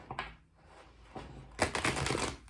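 Tarot cards being shuffled by hand, a soft papery riffle with a short burst early on, then a denser, louder stretch of flicking and shuffling near the end, heard close with no talking.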